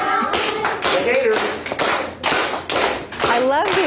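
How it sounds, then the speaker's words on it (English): Children doing gator claps at a school morning show, a rapid series of close, sharp hand claps and slaps in uneven bursts, mixed with excited children's voices calling out over them. "Give them one of those gator claps"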